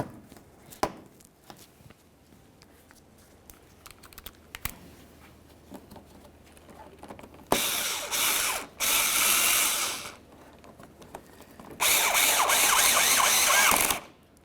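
Ratchet tightening fog light cover mounting hardware on a 2003-2007 Honda Accord: scattered faint clicks and taps, then two bursts of rapid close ratcheting, the second longer, with no voices.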